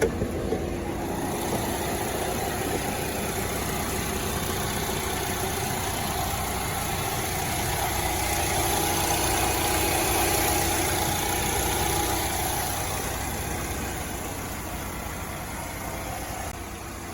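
A 2008 Chevrolet HHR idles steadily at close range, its engine holding an even, smooth hum with a faint whine for the whole stretch and no revving or speech.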